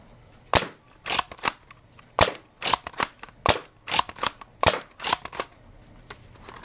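A foam dart blaster fires darts from an 18-round slim short-dart magazine, giving a series of sharp snapping shots in irregular bursts, each followed by a brief mechanical rattle, close and clear.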